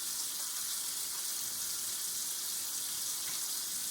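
Steady hiss of water running from a tap as soapy hands are rinsed under the stream, a constant broadband wash with no voices.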